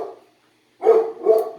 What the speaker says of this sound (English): my dogs are going crazy, aren't they?